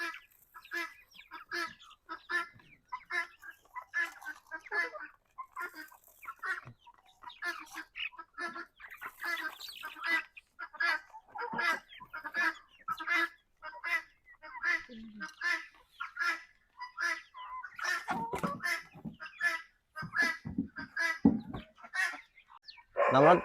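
A flock of chickens clucks in a dense, steady stream of short, repeated calls, with louder bursts and some scuffling near the end; no distinct speech.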